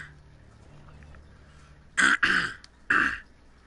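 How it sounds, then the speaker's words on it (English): Someone clears their throat with three harsh, forceful rasps close to the microphone, two in quick succession and one after a short pause, following a stretch of quiet background. "Sorry, I had to clear my throat."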